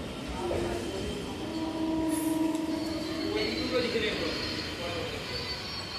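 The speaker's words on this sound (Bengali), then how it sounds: "তো এখন আমরা দমদম জংশন স্টেশন ছেড়ে বেরিয়ে যাচ্ছি।" A Majerhat–Barasat local train pulls out of Dum Dum Junction station, a steady rumble with drawn-out wheel squeals and tonal whines heard from on board.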